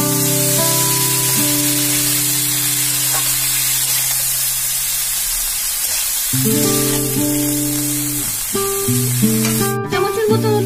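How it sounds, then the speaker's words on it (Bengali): Banana flower sautéing with spices and butter in a pan, a steady sizzling hiss of frying with occasional stirring, heard close and continuous under background music. "মশলার সাথে ভালো করে এটা কষবো, মিক্স করে নেবো মশলার সাথে ভালো করে।"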